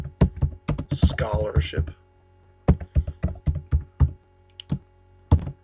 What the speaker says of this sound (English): we're going to type in here total